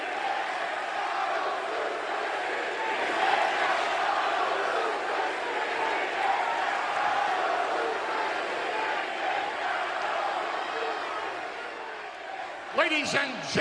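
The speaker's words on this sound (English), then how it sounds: "And the crowd is already chanting AJ Styles Suplex City." A wrestling arena crowd keeps up a loud, continuous roar of chanting for over ten seconds, with a voice talking over it and a brief sharp sound near the end.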